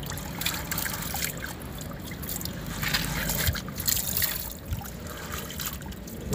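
Water trickles and splashes while a rug is washed in a small bathtub, a continuous close wet rushing with scrubbing and sloshing bursts, fairly loud and without talking.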